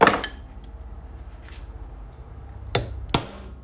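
A claw hammer strikes in a workshop: one sharp hit at the start, a faint tap, then two crisp, close blows near the end over a low room hum.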